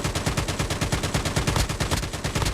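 Rapid, evenly spaced gunfire bursts out in Call of Duty Mobile, a loud close-range stream of repeated shots with no voices over it.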